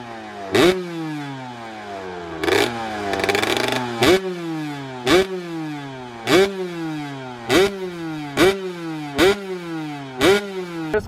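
A 2018 Kawasaki KX125 two-stroke dirt bike engine is revved in about ten sharp, loud blips at a steady rhythm, each rising and falling back to a rattly idle, heard up close with no talking.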